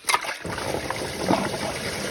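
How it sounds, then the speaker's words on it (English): Coolant trickles and drips from the water pump of a 2004 Mitsubishi Galant with a 3.8L V6 (6G75), a close, fairly loud liquid splatter that runs steadily after a brief opening burst. "So I can hear it dripping."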